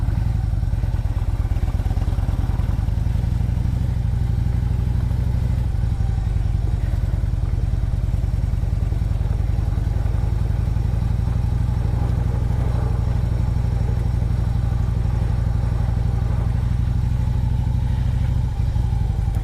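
A motorcycle rides over ice and snow on a cold commute, its mid-pitched engine droning steadily and loud throughout, with wind rush and occasional clatter and thumps from the rough surface.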